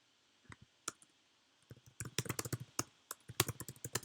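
Computer keyboard typing close by: a few isolated key taps at first, then a quicker irregular run of clicks.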